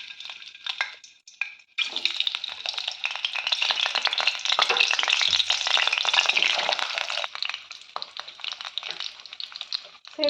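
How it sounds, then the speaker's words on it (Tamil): Eggs frying one at a time in heated oil for a simple egg fry, giving a steady, fairly loud crackling sizzle that starts after a quiet moment and continues throughout. "ஆயில் ஹீட் ஆகிடுச்சு. நம்ம இப்போ ஒவ்வொரு எக்காக சேர்த்திக்கலாம்."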